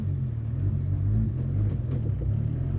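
A HKS Zero R Nissan Skyline R32 engine rumbles steadily while driving, a loud, continuous low drone with slight swells in revs throughout.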